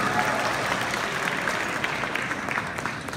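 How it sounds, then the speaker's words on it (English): Steady audience applause fills a cosplay contest's main stage, dense continuous clapping from a crowd at moderate distance, holding even throughout with faint voices mixed underneath. "Here another round of applause for Eternal Armor for sponsoring this"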